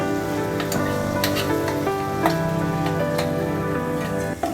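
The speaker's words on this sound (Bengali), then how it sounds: "এখন আমি এর মধ্যে পেস্ট করে রাখা পালং শাকটাও দিয়ে দেবো" Spinach paste cooking with spices in a pan for palak paneer, giving a steady close sizzle with a few clinks of stirring, under a sustained tonal background of music.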